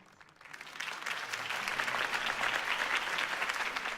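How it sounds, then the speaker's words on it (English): Crowd applause in the Batman Telltale Series video game swells quickly from quiet into a sustained, dense clapping that holds steady to the end. "could have heard that applause"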